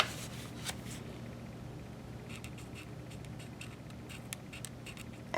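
Close, faint scratchy strokes of a marker's nib tip coloring in stripes on paper for a stamped card, a soft rhythmic rubbing with small pauses, no talking.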